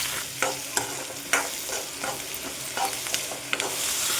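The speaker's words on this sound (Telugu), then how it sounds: "కరివేపాకు, సన్నగా కట్ చేసుకున్న ఉల్లిపాయలు, పచ్చిమిర్చి కూడా యాడ్ చేసుకోవాలి." Onions, curry leaves and green chillies frying in hot oil with cumin, mustard and fenugreek seeds for a brinjal and mango curry, a steady close sizzle broken by several sharp scraping stirs of a spoon in the pan.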